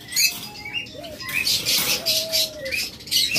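Caged lovebirds and doves at a bird seller's stall give faint chirps, short high calls and soft coos, scattered over a low background hum.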